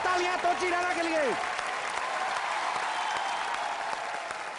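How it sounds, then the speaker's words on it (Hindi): Loud, continuous applause from a large audience at an entertainment awards show, with a sung or spoken voice trailing off over the opening second before the clapping carries on alone. "एक बार जोरदार तालियां तोची रैना के लिए।"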